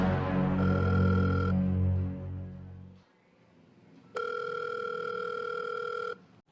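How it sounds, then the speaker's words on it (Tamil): A phone call rings out through a speakerphone: an electronic tone plays for about a second, pauses, then a second ringback tone sounds for about two seconds, with a low hum beneath the first part. "ரிங் போகுதுடா"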